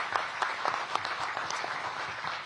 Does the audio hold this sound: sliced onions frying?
no